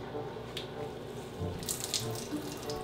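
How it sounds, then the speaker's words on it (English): Water drips and runs from a soaked t-shirt as it is wrung out outdoors, a short splashy trickle with a few louder spatters. "I think you can see that dripping."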